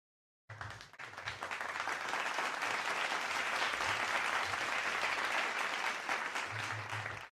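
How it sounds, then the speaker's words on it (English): A studio audience on a talk show breaks into applause, a dense, sustained wash of clapping that starts abruptly, holds steady for about seven seconds and then cuts off, heard alone without speech. "Can I give a round of applause, please?"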